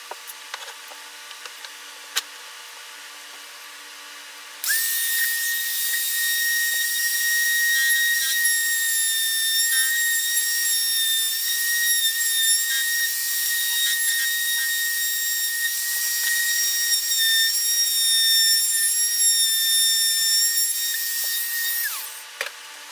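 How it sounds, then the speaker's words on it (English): A small palm router with a straight bit cuts hinge mortises freehand in cherry wood, a loud, steady high whine that starts abruptly after a few seconds of quiet, runs continuously, then cuts off near the end. "I've got my straight bit in my little palm router"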